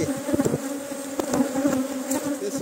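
Honey bees swarm around an open hive during honey harvest, where drone brood comb is being cut out; a dense, close, continuous buzz hums steadily with small swells as insects pass near.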